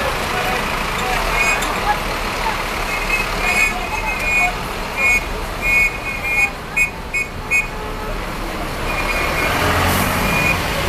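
At Novo Rio bus station in Rio de Janeiro, a 1001 company bus maneuvers amid steady roadway rumble, with repeated reversing beeps sounding in short regular bursts and a voice speaking over the traffic.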